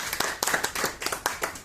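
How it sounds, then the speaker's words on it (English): Audience applause at a Toastmasters meeting, a brief burst of quick hand claps, fairly close and moderately loud. "Let's give it one more round of applause."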